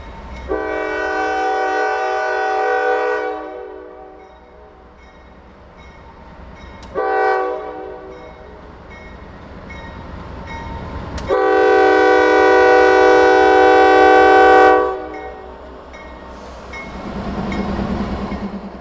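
A wide-load freight train on the Port Road, passing a trackside detector, sounds its horn in several long, loud blasts, from about two seconds up to four, with a low rail rumble between and after them.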